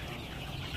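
Color bird broiler chickens on a poultry farm cluck in a steady, dense flock murmur, close and continuous with no talk.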